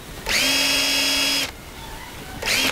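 A power drill fitted with a countersinking bit runs in two bursts, first a steady high whine of about a second, then a pause and a shorter run, loud and close with no talk.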